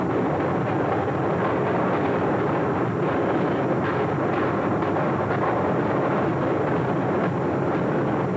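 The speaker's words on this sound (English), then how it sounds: "at 6:48, the dynamite exploded, resulting in this spectacular sight" Dynamite demolition of the Royal Palm Hotel on Guam: a loud, sustained, dense blast roar that rumbles on without a break, thick with deep low-end energy.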